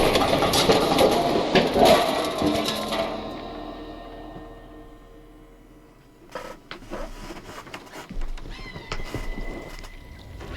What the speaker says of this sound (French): Bébé chat.